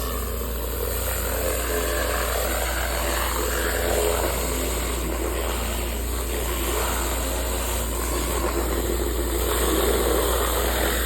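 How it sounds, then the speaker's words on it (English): A Moss-Matic surface cleaner runs during roof tile cleaning, a loud, continuous droning and hissing roar from a pressure-washer engine that holds steady throughout without pause. "we're using the Moss-Matic surface cleaner"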